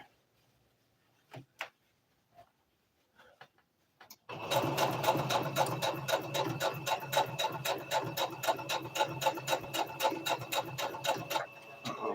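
A sewing machine stitches a twist turban hat in a fast, regular rapid-fire run after a few scattered taps and clicks, close and loud, continuing to the end.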